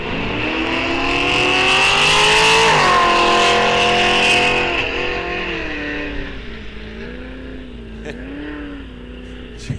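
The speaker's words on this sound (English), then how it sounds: "Jason Vaughn, very loud car, but you can certainly tell when he gets out of the throttle" A very loud drag racing car engine at a bracket race roars and climbs in pitch, then drops off sharply as the throttle is released, fading to a lower warbling rumble.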